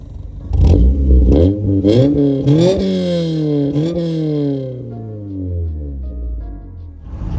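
A Honda Civic EF9 engine revs up in several sharp bursts while warming up, then winds down in a long falling drone that fades toward idle.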